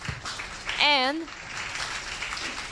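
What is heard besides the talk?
audience applause for speaker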